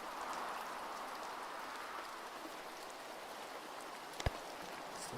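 Rain pattering during a storm in the sailing game Sailwind, a constant gentle hiss of drops with one short sharp knock near the end and no voices.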